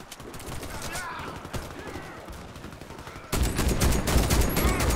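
Rapid gunfire rattles in the first-person shooter Warface on Nintendo Switch, bursts of shots that grow louder and denser toward the end, with a voice talking over it.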